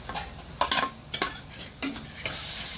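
Onions frying in a pan with thecha added sizzle steadily while a spoon scrapes and stirs in several sharp strokes, the hiss growing louder toward the end.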